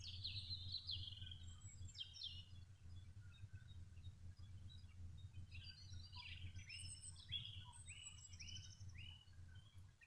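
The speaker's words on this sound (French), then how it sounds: "On n'entend que le bruit des oiseaux." Birds sing and chirp at a quiet campsite, small high bright calls scattered throughout and fairly distant, over a faint low steady hum.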